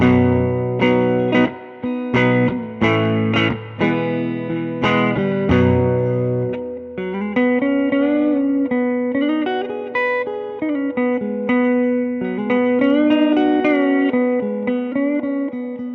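Electric guitar played through a 1965 Fender Super Reverb tube amp: sharp repeated chord stabs give way to sustained, ringing melodic notes with gentle distortion and reverb.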